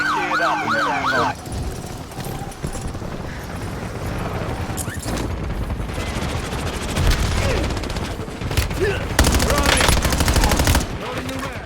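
Call of Duty Warzone gunfire, with rapid automatic bursts and sharp shots cracking loudly over a wailing siren and busy in-game action, mid-distance and dense.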